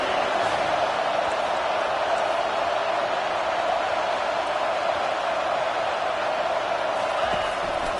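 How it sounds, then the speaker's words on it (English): A stadium crowd roars in the College Football 25 video game at Wisconsin, a steady, dense wash of cheering and noise that holds at an even level throughout. "This crowd knows when to bring it"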